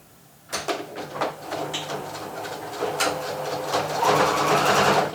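A sewing machine runs in short back-and-forth bursts as it back tacks the seam on a fabric nursing cover, then settles into a steady, close whir that grows slightly louder toward the end.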